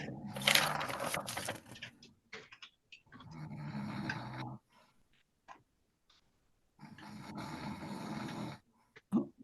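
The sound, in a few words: person snoring during a virtual court hearing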